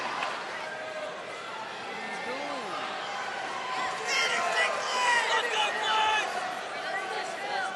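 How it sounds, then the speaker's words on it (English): An MMA fight crowd yells and cheers in an arena, a steady wash of voices that swells slightly toward the end, heard at a distance. "The crowd here yelling for Clay to start."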